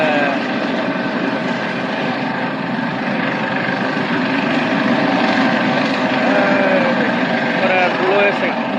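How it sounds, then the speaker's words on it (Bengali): A large helicopter taking off drones with a continuous loud rotor and engine roar that stays steady throughout, and a person talks over it. "দেখেন এই তো হেলিকপ্টার উঠতেছে।"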